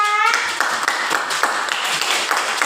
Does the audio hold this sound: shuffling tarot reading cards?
no